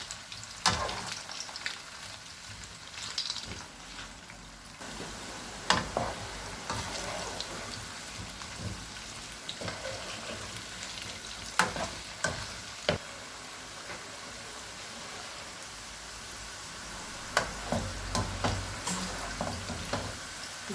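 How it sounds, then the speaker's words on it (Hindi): Potato pieces fry in hot oil until crispy for street-style aloo chaat, a soft continuous sizzle with scattered pops and spatula stirs, fairly quiet and close. "अब हम आलू को फ्राई कर लेंगे जब तक ये बिल्कुल क्रिस्पी नहीं हो जाते।"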